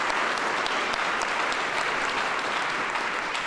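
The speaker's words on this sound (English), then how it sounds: "I just got to give you a really public round of applause for everything that you're doing" Steady, dense applause from an audience at the grand opening of Innovation One, a broad even wash of clapping that holds at one level from start to finish with no voices above it.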